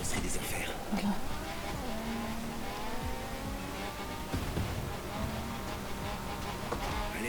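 Nissan GT-R race car with a wild body kit racing in The Crew Motorfest video game, engine revving and shifting with tire noise, fairly quiet and steady under faint speech.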